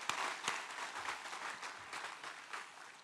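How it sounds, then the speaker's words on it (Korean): A church congregation claps together during a Sunday worship service in a quiet, steady patter of applause, sounding somewhat distant, with no voices over it. "박수로 영광 돌리겠습니다."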